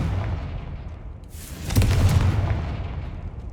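A Confringo spell explosion in Hogwarts Legacy, a deep boom that swells midway through, then rumbles and fades over a second or so.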